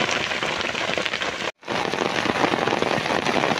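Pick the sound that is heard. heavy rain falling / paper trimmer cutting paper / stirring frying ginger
heavy rain falling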